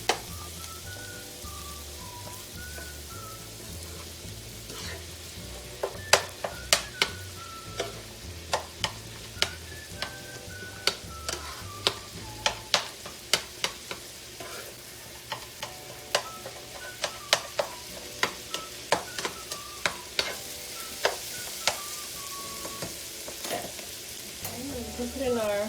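Peppers fry in a pan under a steady sizzle, with frequent sharp ticks and taps from a stirring utensil hitting the pan and a faint musical tone underneath.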